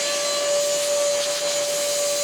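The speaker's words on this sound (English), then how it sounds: "So we just want to take the vacuum cleaner and clean all of this off." Vacuum cleaner sucking dust off a Concept 2 rowing machine roars in a loud, steady whine close by, with an unbroken airy rush and a sharp tonal hum throughout.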